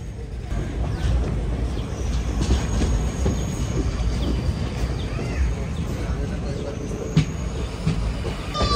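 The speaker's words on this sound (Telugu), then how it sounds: "రేణిగుంట జంక్షన్ స్టేషన్ లోపలికి అయితే వెళ్ళిపోతున్నాం కదా మనం." The Hubballi Express rolls into Renigunta Junction, heard from inside as a steady low rumble and rattle of the carriages with faint squeals and clanks, and people speaking over it.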